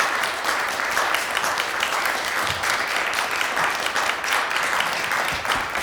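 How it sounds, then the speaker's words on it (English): Conference audience in Ann Arbor giving a professor a round of applause after a plenary lecture, a thick, sustained burst of many people clapping at once, loud and continuous with no talk over it. "it's time to give Professor Thurman another wonderful round of applause"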